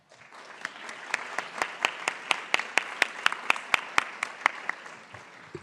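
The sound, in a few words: applause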